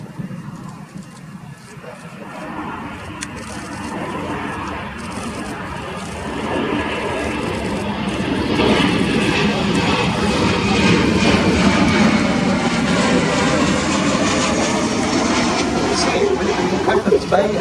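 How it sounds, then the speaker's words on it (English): A Boeing Poseidon MRA.1 maritime patrol jet of No. 120 Squadron, RAF Lossiemouth, flies past at an airshow with its weapons bay open. The broad engine roar swells over several seconds and holds loud, with a crowd murmuring underneath. "Running in from the right, the Boeing Poseidon MRA.1 from number 120 Squadron at RAF Lossiemouth."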